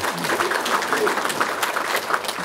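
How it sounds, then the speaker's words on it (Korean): A church congregation at a Sunday family worship service claps to welcome new families, a dense, steady wash of applause lasting a couple of seconds with a voice faintly mixed in. "박수로 환영하겠습니다"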